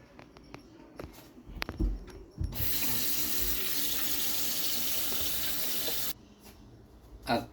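Raw chicken is rinsed under a running kitchen tap, a steady loud hiss of water pouring into the sink for several seconds after a few handling knocks, then the flow stops.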